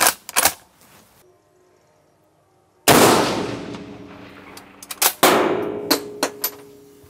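Metal parts of a Schmidt-Rubin 1911 rifle clank sharply as it is taken apart: a few quick clatters, then one loud ringing clang followed by several more metallic knocks and taps, close and with no talk.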